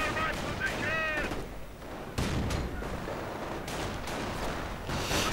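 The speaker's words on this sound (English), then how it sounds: "M8 opening up on the Full Grenadiers." Video game gunfire from an M8 armoured car firing on Grenadiers rattles in dense bursts amid battle noise, loud and continuous, with a voice talking over it.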